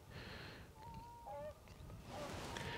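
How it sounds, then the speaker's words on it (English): Geese honking beside a lake in the Lake District at Wise Een Tarn, a few nasal calls at a moderate distance over soft outdoor background noise. "Some noisy geese."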